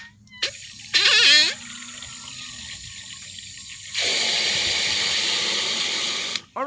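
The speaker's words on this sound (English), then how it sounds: "I just go and put some more water, rinse it up" Water splashes into a pot in two bursts, a short gush followed by a longer steady pour and rinse, close and fairly loud, ahead of feeding leftover water to an orange tree in a garden.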